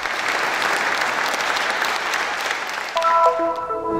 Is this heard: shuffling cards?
no